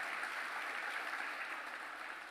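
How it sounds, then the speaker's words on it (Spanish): A church congregation gives a steady burst of applause at a sermon, the many hands clapping in a dense, even wash of sound that lasts a couple of seconds without voices over it. "Dele un fuerte aplauso."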